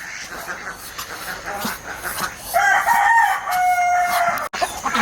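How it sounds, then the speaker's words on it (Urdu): A rooster crows among chickens and ducks as the flock comes out on a farm, the crow rising clearly midway over continuous clucking and quacking, with brief talk around it. "یہ نکل رہے ہیں جی بطخیں، مرغیاں"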